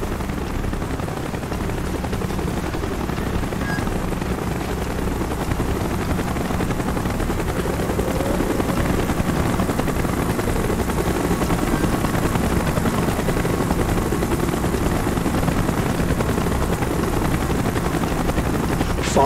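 Military helicopter in Call of Duty: Black Ops, a loud continuous rotor thump and engine roar holding steady for the whole stretch, swelling slightly as it draws closer, with faint bursts of gunfire mixed in.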